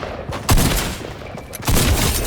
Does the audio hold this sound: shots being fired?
yes